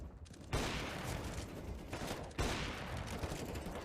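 Gunfire from a wall bang in a CS:GO match on the Cache map, two sharp bursts cutting in at clear intervals over a dense, loud wash of in-game noise, with no talk.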